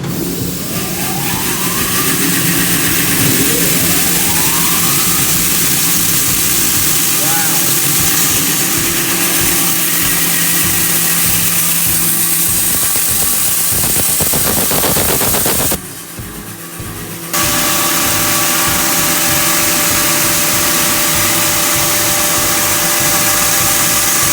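A pallet-room saw machine, its back rollers just adjusted, runs loud and steady with a dense rattling, machine-gun-like clatter and rumble, broken once by a brief drop in level before the continuous roar resumes.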